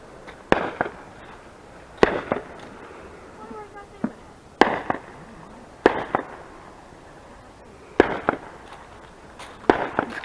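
Fireworks exploding outdoors in a string of sharp, loud bangs spaced about every one to two seconds, several landing close together, with faint voices in between.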